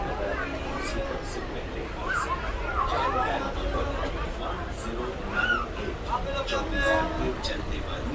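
Sealdah–Hasanabad local train running, a steady rumble and rattle of the carriage under nearby passenger chatter, with faint squeals throughout.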